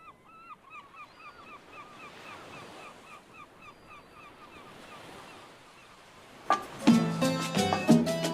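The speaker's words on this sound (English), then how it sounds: "But the beach, Playa Ancon, was super, super beautiful." Ocean waves roll in steadily on Playa Ancon beach near Trinidad, Cuba, with soft surf and wind noise before a louder, clattering burst near the end.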